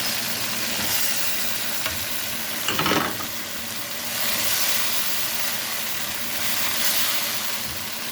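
Carrots hit a hot pan and sizzle steadily and loudly for several seconds, with a brief scrape of stirring partway through and the frying hiss continuing throughout.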